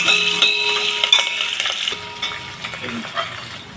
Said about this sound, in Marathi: त्याच्यात लसूण, कढीपत्ता, फोडणीला आपण टाकून घेऊ आणि मस्तपैकी त्याची फोडणी तयार करून घेऊ